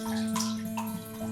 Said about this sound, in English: to pour that into my scuttle